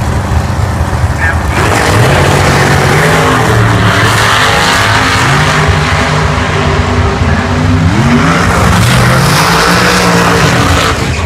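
Loud drag racing engines roar and rise in pitch as cars accelerate hard at the U.S. Nationals, steady and close, with an announcer's voice over the engine noise.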